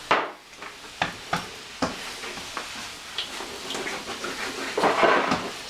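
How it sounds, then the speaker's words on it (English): Pork loin sautés in a pan, producing a sizzling bed broken by repeated scraping and clattering stirs at irregular intervals, fairly close and loud, with no voices. "now we're gonna saute my meat"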